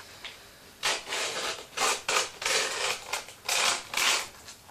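Grip tape is peeled and torn along the edge of a skateboard deck in a series of short, rasping, scratchy strokes, close and fairly quiet, each lasting about half a second with brief pauses between them.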